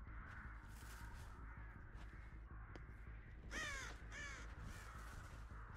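Crows in Dead by Daylight let out a couple of harsh caws close by, standing out clearly over a steady low ambient hum with no talking.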